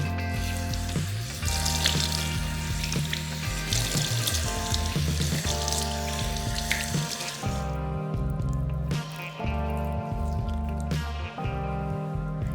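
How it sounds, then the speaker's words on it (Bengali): Water splashing and running while a multani mitti face pack is rinsed off the face, with wet squishing, drips and a tap flowing steadily, no talk. "আগে প্রথমে জলের ঝাপটা দেবো তাহলে প্যাকটা ভিজে উঠবে"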